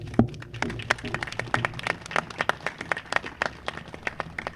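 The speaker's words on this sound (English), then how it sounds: "Let's do one more round of applause for all of our speakers who did a great job." Audience applause for speakers at a parks levy launch event, heard as scattered, fairly distinct individual claps in a steady rhythm, moderately loud and close.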